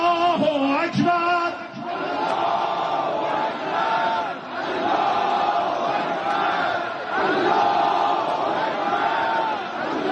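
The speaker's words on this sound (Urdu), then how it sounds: "تہران میں اللہ اکبر کے نعرے بھی بلند ہوئے" A large crowd in Tehran chanting Allahu Akbar, a loud continuous wall of massed voices rising and falling in a steady rhythm throughout.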